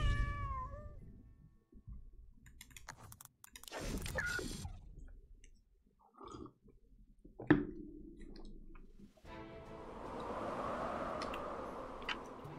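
A cat meows in the strategy video game Legion TD 2, a few short close calls spaced apart among game clicks, ticks and effects, with no talking.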